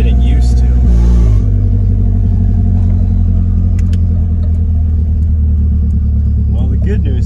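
A Nissan Hardbody pickup with a newly replaced clutch drives along with a loud, close, steady engine rumble and slight rises in pitch, continuous throughout.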